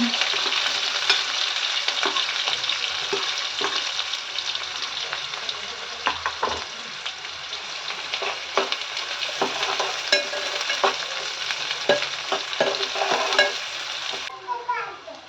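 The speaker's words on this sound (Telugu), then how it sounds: "పచ్చిమిర్చి వేసుకుంటున్నాను ఉల్లిపాయ ముక్కలు కూడా వేసుకుంటున్నాను అందులో" Green chillies and onion pieces frying in a pan, a steady close sizzle with scattered stirring scrapes and clicks throughout.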